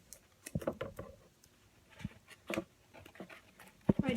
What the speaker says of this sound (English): My dog is next to me.